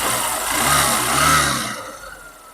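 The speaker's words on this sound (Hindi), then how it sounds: "इंजन की साउंड भी बहुत ही बेहतरीन है, आप लोग सुन सकते हैं" A motorcycle engine that had been emitting white smoke runs close by, a steady mid-pitched drone that swells briefly as it revs, then drops off sharply near the end.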